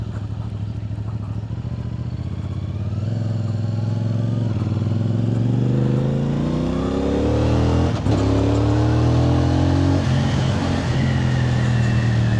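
A motorcycle engine revs up steadily, its pitch climbing and growling louder over several seconds, close by with no talking.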